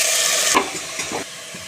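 Shredded cabbage drops into a pan of onions frying with curry leaves and coriander for a moong dal cabbage poriyal, a sudden close hiss swelling into steady sizzling and a few stirring scrapes.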